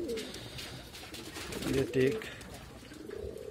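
Pigeons in a loft cooing, soft low throaty coos rising into a louder burst midway, heard close under and between a man's speech.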